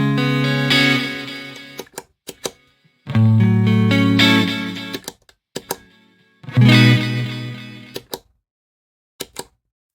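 Guitar chords ring out through an Eventide H90 reverb and delay, and each time the effect is bypassed the ringing cuts off abruptly. Three loud strums are each chopped short and followed by silence and small clicks.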